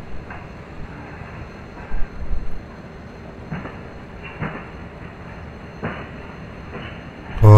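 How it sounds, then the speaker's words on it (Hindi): Rajdhani Express pulling out of a station in the Open Rails train simulator, a low steady rumble of rolling stock with occasional clanks and louder bumps as the train moves off. "तो ज़रा स्टेशन से उठा ले अपनी ट्रेन को"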